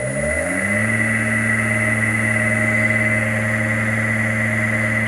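A vintage machine's motor, driven by a 3-phase inverter, runs in reverse with a loud, steady electric whine and hum that settle into constant tones after a short ramp-up at the start.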